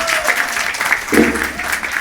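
Audience at a Fathers Day celebration at Isha applauding, dense continuous clapping close by with a brief swell in the middle.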